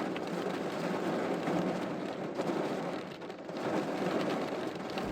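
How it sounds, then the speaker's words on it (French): A violent thunderstorm front sweeps the Grésivaudan valley, with dense rain and gusting wind roaring steadily and swelling and dipping over several seconds, no voices. "Les rafales avec la flotte, c'est épouvantable."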